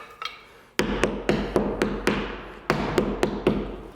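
A hammer taps wooden interior door casing down into place, giving about a dozen sharp, close, evenly spaced knocks with a short woody ring, loud and alone.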